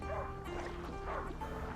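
A dog barks and yips a few times at middle distance in A Plague Tale: Innocence, over a busy, continuous background of game ambience.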